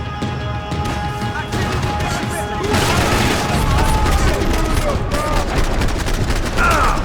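Rapid bursts of gunfire in the video game Max Payne 3, dense and loud, crackling shots overlapping in a chaotic firefight, with voices mixed in.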